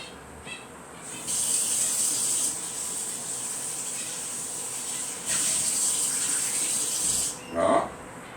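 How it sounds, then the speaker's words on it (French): A cake mould is rinsed under running tap water, a steady gushing flow that swells louder twice and pauses briefly near the end, with a voice speaking faintly. "Je vais passer mon moule sous l'eau."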